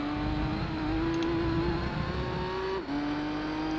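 Race car engine in Gran Turismo 3 holding a high steady whine that creeps upward, then drops sharply at a gear change near the end before settling again, loud and continuous.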